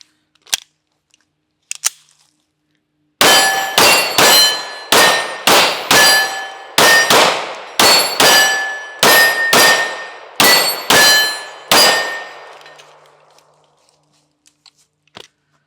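Handgun fired in a steady string of about a dozen sharp, loud shots at close range, each with a ringing metallic decay, preceded and followed by a few faint clicks and handling sounds, no talk.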